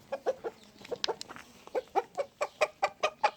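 Hens cluck nearby while eating pasta in bone broth, in short repeated bursts that settle into a steady, rhythmic series of clucks.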